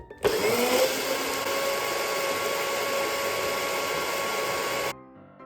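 A blender whirs loudly and steadily for several seconds, a high motor whine grinding dry porridge oats, then cuts off abruptly.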